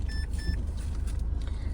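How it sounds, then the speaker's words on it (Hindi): A Mahindra Scorpio N 2.2-litre diesel runs with the AC switched on, a low, steady engine hum heard from inside the cabin, opened by two short electronic chime beeps. "गाड़ी के अंदर बैठते हैं और गाड़ी को करते हैं ऑन और AC को भी ऑन कर देते हैं"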